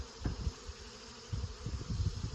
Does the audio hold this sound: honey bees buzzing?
yes